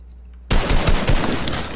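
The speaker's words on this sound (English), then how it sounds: "Oh, I'm gonna snipe this kid." Gunfire from a sniper rifle in a video game breaks a quiet moment half a second in, then sustains as a loud, dense stretch of repeated sharp cracks and rumbling bursts.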